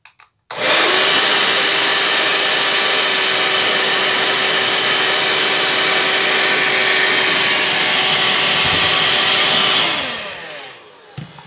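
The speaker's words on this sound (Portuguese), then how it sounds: "Vou ligar aqui, ó, vou ligar rapidinho por conta do barulho, isso faz barulho demais da conta." A GAMA Italy hair dryer snaps on and runs with a loud, steady whirring roar for about nine seconds, then winds down as it is switched off.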